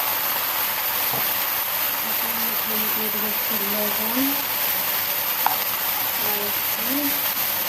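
Papaya pieces fry in a pan with a steady, even hiss of sizzling oil throughout, while a voice speaks quietly over it.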